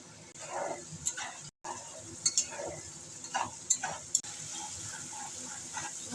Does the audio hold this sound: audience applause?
no